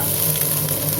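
Finely chopped garlic fries in hot oil with fennel and cumin seeds, giving a dense, continuous close sizzle with no voices.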